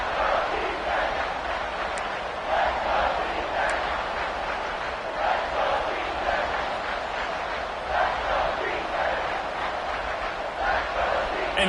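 Stadium crowd in the College Football 26 video game roaring steadily through a big third-down play, a dense, loud wash of cheering that swells slightly at moments, with no clear talk over it.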